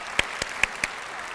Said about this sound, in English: Give him a big round of applause again.